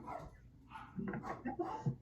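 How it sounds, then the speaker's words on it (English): An Old English Bulldog gives a few short, soft barks and whimpering yips, faint and somewhat distant, with no clear talking. "He's an old English bulldog."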